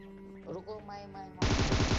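Rapid gunfire from a battle in a crown-tier squad mobile shooter match, a dense loud burst of shots that starts abruptly after brief talk and game sounds.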